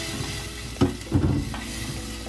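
Ground spice paste being stirred as it fries in hot oil, a steady soft sizzle broken by a few louder scraping stirs near the middle, close and with no talk.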